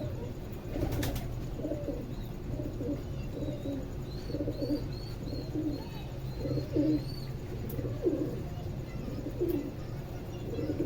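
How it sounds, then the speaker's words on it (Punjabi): Pigeons coo while drinking water, soft low repeated coos arriving in regular pulses, with light chirps above them against a steady background hum. "ਦੇਖ ਰਹੇ ਹੋ ਮਾਸ਼ਾਅੱਲਾ ਪਾਣੀ ਸ਼ਾਨੀ ਪੀ ਰਹੇ ਕਬੂਤਰ"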